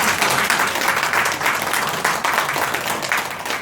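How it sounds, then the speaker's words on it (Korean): Audience applause at an organizing ceremony for a DMZ peace project committee in Gwacheon and Uiwang, dense, steady clapping from a crowd filling the whole stretch at close range. "다시 한번 박수 한번 부탁드립니다."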